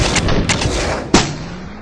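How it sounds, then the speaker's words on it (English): A single sharp gunshot fired at a bulletproof mask during a ballistic test cracks loudly and close amid a noisy outdoor background, with a short rumbling tail after the impact. "We're gonna do another shot, this time like lower on the cheek, and hopefully it stops."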